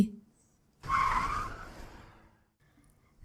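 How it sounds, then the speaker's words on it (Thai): A car's brakes screech as a sound effect in an audiobook scene, a sharp tire squeal that bursts in abruptly after a quiet moment, peaks loudly, then trails off over about a second and a half. "เสียงเบรกกลางดงกระสุน"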